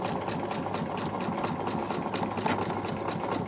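A sewing machine runs steadily through quilt fabric, close and continuous with a fast even needle rhythm and no voices.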